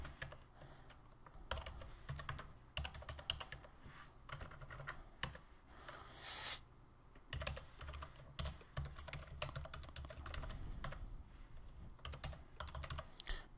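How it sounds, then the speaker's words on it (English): Keys on a computer keyboard clatter in quick bursts of typing, entering details into a website contact form, with a brief pause partway through and no voices. "so if we type in here,"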